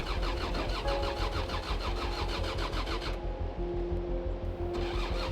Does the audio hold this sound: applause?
no